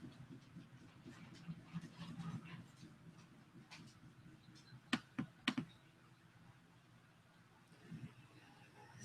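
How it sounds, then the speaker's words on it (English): Computer keyboard typing in scattered bursts of light clicks, with a few sharper taps, while someone types a hashtag into a search bar over low background murmur. "you type hashtag free to edit in the search bar"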